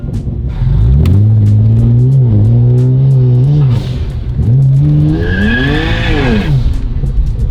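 A stage 3 tuned BMW 335i with a 500+ horsepower engine revs hard as its tires spin and slip. Loud rising and falling engine pitch comes with a squealing tire chirp late in the run, close and continuous.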